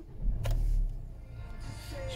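Electric front and rear windows of a Kia Sorento EX 2.2 CRDi 4WD run inside the cabin, giving a steady motor whine that holds for under a second before trailing into quiet interior ambience.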